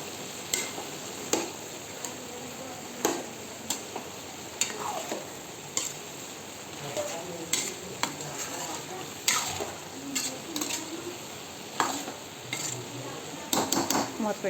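A spoon stirs salt and turmeric into ridge gourd curry in a pan, with irregular close metallic scrapes and clinks over a soft background sizzle.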